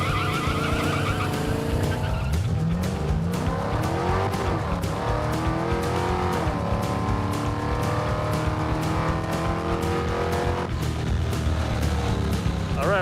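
Budget drag car launching down a drag strip with aired-down rear tires, loud engine roar and tire squeal as the wheels spin at launch, then a sustained rising engine note pulling away through the run.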